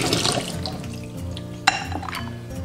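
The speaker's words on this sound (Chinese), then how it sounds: "把腌好的黄骨鱼用流水清洗一遍" Marinated yellow catfish is rinsed under running tap water, a splashing flow with a brief clink partway through, over quiet background music.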